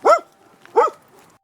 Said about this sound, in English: dog says woof.